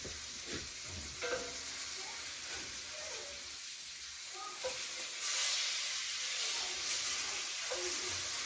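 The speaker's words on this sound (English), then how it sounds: "I'm just gonna toss the sausage around on its side with its own herbs" Sausage with its own herbs sizzles steadily in a hot pan, a continuous close hiss broken by scraping knocks and shuffles as the pieces are tossed around.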